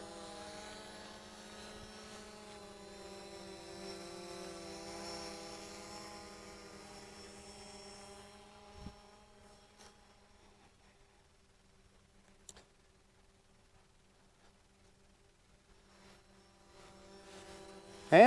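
A Fimi X8 SE camera drone flies a fast clockwise tracking orbit outdoors, giving a steady whining propeller buzz that fades away halfway through, leaving near silence with a few faint ticks.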